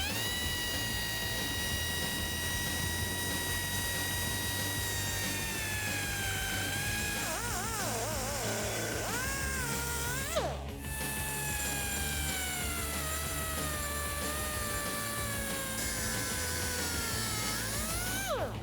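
A cutoff wheel cuts through the exhaust pipe of a 2015-2019 Mustang GT during a resonator delete. It makes a loud, continuous high whine that dips and recovers in pitch as it bites into the metal, with one brief break.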